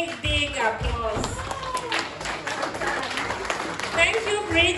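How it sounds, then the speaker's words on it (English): Party guests at a graduation celebration clap together in a lively, uneven round of applause mixed with cheering and overlapping voices, steady throughout. "Let's give her a big, big applause."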